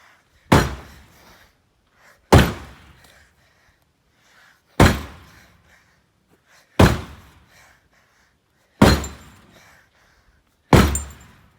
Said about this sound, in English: Mirror completely smashed off. Door dented up.